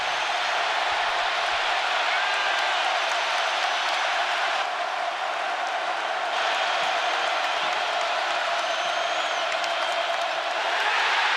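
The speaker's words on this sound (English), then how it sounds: "And here comes the crowd again." A college basketball arena crowd at an Illinois at Purdue men's game, a sustained loud roar of cheering and applause that fills the whole stretch without letup.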